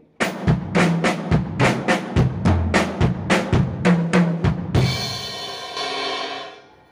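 Semi-linear drum kit lick played as a rapid run of sixteen distinct hits spread across drums, closing on a ringing crash cymbal that decays; close and loud, with no talking.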